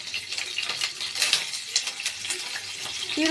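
Green chillies sautéing in a pan, with a close, steady sizzle and brief scraping stirs, no talk.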